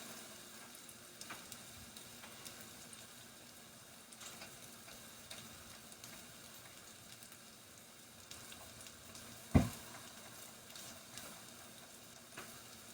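Salmon croquettes fry in a pan with a soft, low, continuous sizzle and faint crackling, broken once by a single sharp knock about two-thirds of the way through.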